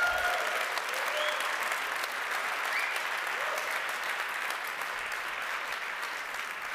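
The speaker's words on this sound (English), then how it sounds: "Give him an applause." Sustained applause from an audience at a livestreamed blockchain company relaunch event, a dense, steady wash of clapping that holds at even loudness throughout with no speech over it.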